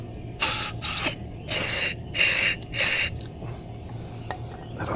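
Starter fluid sprayed from an aerosol can into a vintage Lawn Boy two-stroke mower engine, five short hissing bursts of varying length, close and fairly loud, with no talking.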